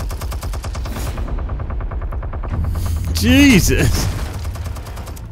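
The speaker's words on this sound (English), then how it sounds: "Oh my god, he's got a turret in the roof!" Rapid automatic fire from a roof-mounted turret in Batman: The Telltale Series, a loud, steady burst of repeated shots, with a startled voice exclaiming over it partway through.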